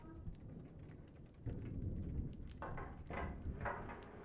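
A thunderstorm with rain in the video game Return of the Obra Dinn: faint, steady rainfall is broken by low rumbles and several sharp crackling thunder bursts in the second half, with no talking.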